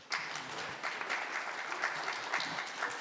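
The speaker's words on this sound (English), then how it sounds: "Let's welcome Professor with applause," A university audience claps to welcome a professor onto the stage, fairly faint and distant, a continuous patter of many hands with slight surges.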